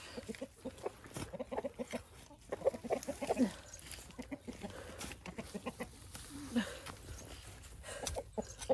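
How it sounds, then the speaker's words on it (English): A chicken clucks close by in quick, uneven bursts beside a compost pile, with a few sharper squawks in between. Soft rustling and background noise run underneath. "Will you go away, chicken? Leave me alone."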